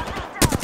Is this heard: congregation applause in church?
no